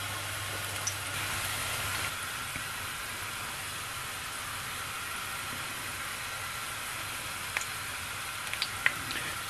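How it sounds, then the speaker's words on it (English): Garlic frying in hot oil for a Jamaican pepper shrimp dish, a steady soft sizzle with faint crackles and pops, continuous and close, with no talking. "I'm just going to leave it in. And let it sit and fry"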